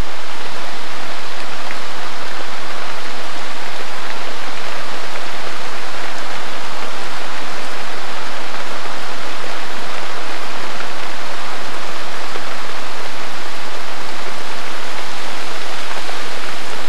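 Heavy rain pours down in a constant, loud hiss that stays dense and even from start to finish, with no voices over it.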